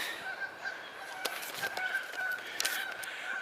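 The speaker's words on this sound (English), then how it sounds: "The mad geese are upset that I'm infringing upon their territory." Agitated geese on Toronto Island in the off season, honking repeatedly in scattered nasal calls at moderate distance, some sharper bursts among them, with light outdoor background noise.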